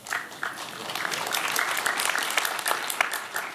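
Audience applause at a university healthcare business forum, dense, steady clapping from a crowd lasting a few seconds.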